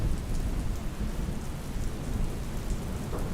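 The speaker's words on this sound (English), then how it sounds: "The rain continued to fall outside" Steady heavy rain pours down with low rumbling thunder rolling beneath, a dense continuous storm wash heard alone at a loud, even level.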